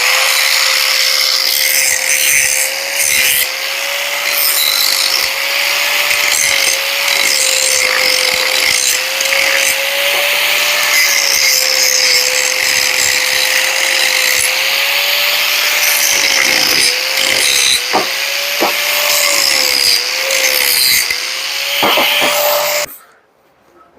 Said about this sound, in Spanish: Quitamos el excedente del corte. Luego pulimos un poco.